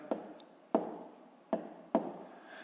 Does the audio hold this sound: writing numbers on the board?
yes